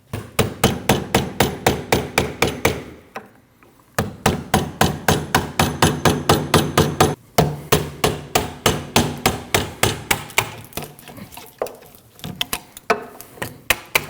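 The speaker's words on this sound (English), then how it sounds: "tap the race off with the hammer and chisel" Steady metallic hammer blows on a chisel, tapping a rear wheel bearing race off a 2003-2008 Subaru Forester hub, struck in quick regular rhythm, close up, with a couple of brief pauses between bursts of tapping.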